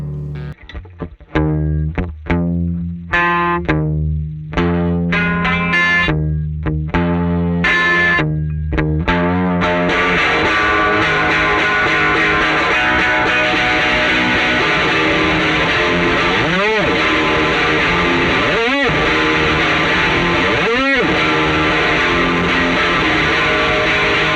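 Electric guitar through a Dandy Horse chorus pedal set for a poly chorus tone: distorted, swirling riffs and chords, starting with choppy stabs and then settling into a sustained, loud wash with repeated slides.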